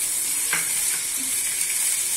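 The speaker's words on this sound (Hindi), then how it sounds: "और इसे 10 से 15 सेकंड के लिए सोटे कर लेंगे।" Chopped vegetables with tomato and capsicum sautéing in a hot pan, giving a steady close sizzle with a brief stirring scrape.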